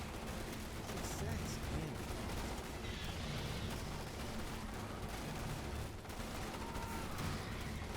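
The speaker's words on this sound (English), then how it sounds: "Those shotguns are not stopping them." Dense, continuous gunfire and explosions from a Starship Troopers: Terran Command battle, with shotguns firing among steady loud combat noise and bursts layered over each other throughout.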